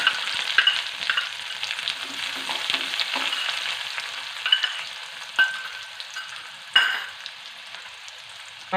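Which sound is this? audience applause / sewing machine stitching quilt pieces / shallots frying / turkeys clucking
shallots frying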